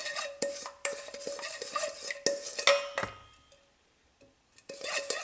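A bamboo spoon stirs roasting vegetables seasoned with garlic in a pot, giving close, irregular scraping and clinking strokes with a short quiet pause near the middle before the stirring resumes.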